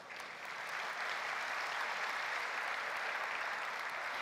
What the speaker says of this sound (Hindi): आपने तारीफों भरी तालियां बजाकर मेरा स्वागत किया है